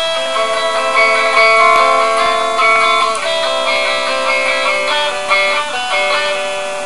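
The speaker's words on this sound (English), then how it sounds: "in the intro, the rhythm guitar plays something that sounds like this" An electric guitar plays a repeating rhythm riff from a remix intro, sustained chords ringing and shifting through four shapes starting on open E, loud and clear with no voices.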